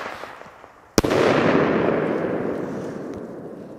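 A single-shot firework tube fires outdoors in the cold, one sharp, loud bang followed by a long rumbling roll of echo that fades gradually, with no talking.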